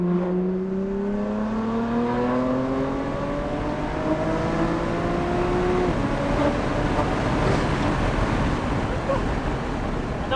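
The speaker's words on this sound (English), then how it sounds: "Very enjoyable S55 wail. The engine actually revs quite high, so you get that exotic sound." BMW M3/M4 with the S55 engine, bone stock apart from downpipes and a titanium equal-length exhaust, revving high through several rising sweeps before settling into a steadier drone, loud and close outdoors.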